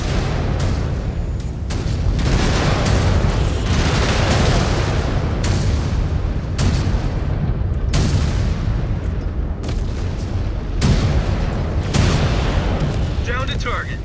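Repeated heavy missile explosions in the mech combat game MechWarrior 5: Clans, loud booming blasts arriving every second or so over a constant rumbling battle din, with a voice talking intermittently.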